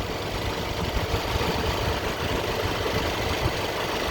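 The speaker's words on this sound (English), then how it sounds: "On idle, with almost no load, less than 3000 RPMs, it races up to 14 psi." A 2014 Mercedes E63 4matic engine with about 115k km idles with almost no load, a steady, even rumble that holds at constant level throughout without any talk over it.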